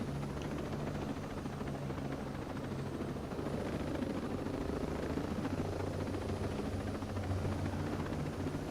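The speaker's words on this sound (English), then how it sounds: "I gotta find somewhere to put this helicopter down" A helicopter in a Ghost Recon video game drones steadily with a dense, thumping rotor roar and engine hum, constant and fairly loud throughout, no talking.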